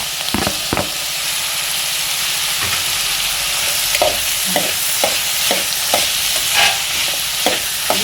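Tomatoes hit a hot pan of cooking upma vegetables, sizzling and frying steadily while a spoon stirs and scrapes in a series of sharp, regular knocks against the pan.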